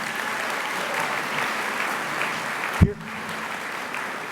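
A school assembly audience claps steadily, a full round of applause that stays even for several seconds before a sharp knock and a drop into quieter room tone.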